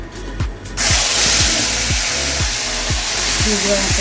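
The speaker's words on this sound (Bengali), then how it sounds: "দেখো আমি পেঁয়াজ বাটাটা ছেড়ে দিলাম" Onion paste hits hot oil that has been caramelized with sugar while cooking chili mutton, setting off a loud, steady sizzle that starts suddenly and holds, with faint rhythmic thumps and a few low voiced sounds beneath.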